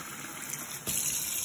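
Lukewarm tap water gushes steadily over wood ear mushrooms being soaked, growing fuller and louder partway through, close and with no talking.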